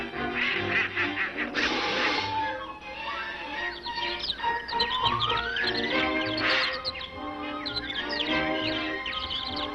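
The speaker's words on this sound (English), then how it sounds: "a superstar, Donald Duck" Donald Duck, the cartoon character, quacks and squawks in his raspy, garbled voice through a rapid, animated burst of duck-like chatter lasting several seconds.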